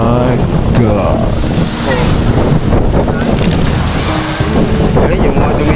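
Strong sea waves on a coastal ride near Taal: a loud, continuous roar of surf mixed with heavy wind buffeting the microphone, with a voice speaking faintly under it.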